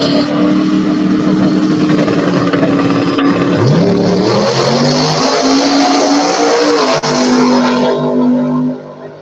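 A pair of drag race cars launch off the line, engines roaring loud and close as they rev up and accelerate down the strip, then the sound cuts away at the end.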